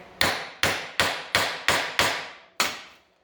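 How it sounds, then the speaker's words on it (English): Seven sharp hammer blows ring out in a fairly even rhythm, each a crisp close impact with a short decay. "Hold it in place. Hit with a hammer."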